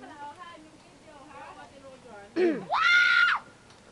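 Chatter is followed by a sudden loud, high-pitched scream from a woman on The Plunge ride at Danao Adventure Park, Bohol; it rises and holds for about a second before cutting off.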